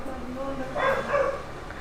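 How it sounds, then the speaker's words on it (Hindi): Dogs barking indoors at home, a short burst of a few sharp barks near the middle of the clip, heard under a murmur of talk. "क्या हुआ, क्यों भौंक रहे हैं?"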